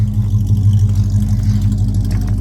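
A 1974 Dodge Dart Swinger engine runs loud and close, a deep steady rumble that swells slightly as it revs, with no voices.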